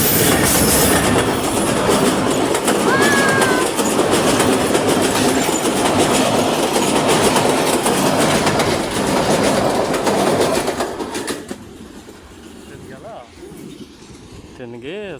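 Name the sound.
train passing on railway line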